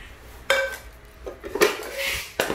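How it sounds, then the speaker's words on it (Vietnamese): A French handleless deep-fry pan being handled and set down, giving a few metallic clanks and scrapes at near range with short pauses between knocks. "Con này thì chảo chiên ngập dầu không tay của Pháp"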